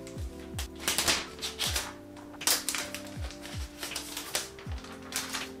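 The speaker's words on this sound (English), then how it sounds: "let's take it out and remove this plastic." Plastic wrap being peeled off a new gold M1 MacBook Air, a series of crinkly rustles and sharp crackles in irregular bursts, close and fairly quiet.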